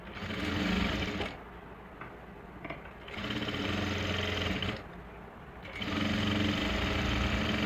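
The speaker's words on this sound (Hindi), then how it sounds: "तो पहले हम एक कच्ची सिलाई ही इस पर लगाएंगे और मोटे बखिए से नहीं लगाएंगे, ये बारीक बखिए से ही लगाएंगे" Domestic sewing machine stitching fine, small stitches through a suit's main fabric and its lining, running loud in three bursts with two brief quieter pauses between them.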